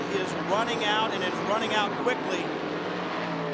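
Race car engines roar in a steady, dense drone at Homestead during the 2005 Rolex sports car series, running continuously beneath a commentator talking.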